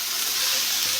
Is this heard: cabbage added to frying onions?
yes